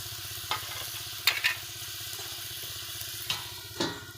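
Three pieces of fish go into a frying pot with potatoes, giving a steady close sizzle with several soft clunks and scrapes as they drop in.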